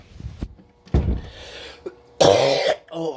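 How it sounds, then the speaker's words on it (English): A person coughs and clears their throat several times, harsh and close, with short pauses between the fits. "I'm really coughing."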